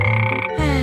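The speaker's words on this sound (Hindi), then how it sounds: "यहाँ एक मेंढक है" A frog croaks in a short, loud, close burst, a single throaty call with a shift in pitch partway through, heard alone without talk.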